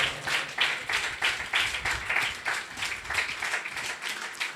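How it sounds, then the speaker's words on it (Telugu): Audience applause at a church New Year gift-giving event for children: steady, fairly even clapping from a crowd that keeps up throughout with no voices over it. "చప్పట్లు కొడదాం అందరం"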